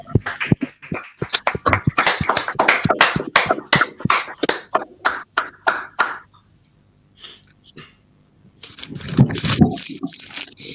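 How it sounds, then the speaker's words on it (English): An audience at an ISUPK gathering claps for the captain: a dense run of sharp, close hand claps that thins into scattered single claps and fades out, followed by murmuring and a voice. "clap it up for the captain"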